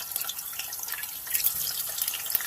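French fries dropping into bubbling hot frying grease, a crackling, fizzing sizzle with fine popping bursts that swells midway, close up and without talk.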